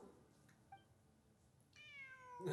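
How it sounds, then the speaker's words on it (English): A cat in the Genshin Impact game meows, a faint short call early on followed by a clearer drawn-out meow near the end over quiet background ambience. "I'm not hearing things. It really is a cat."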